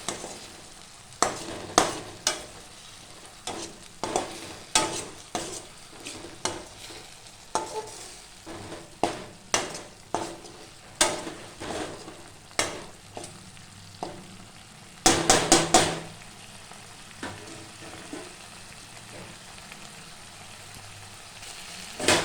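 Groundnut masala simmers and reduces in a pan with a soft bubbling sizzle, broken by a steady series of sharp spoon scrapes and taps against the pan, close and without talk.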